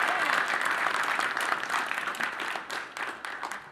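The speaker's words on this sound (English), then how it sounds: "a round of applause for the great job that Central High School ROTC is doing" Crowd applause for a high school ROTC unit at a city address, many hands clapping in a thick continuous wash that fades slightly toward the end, with faint voices mixed in.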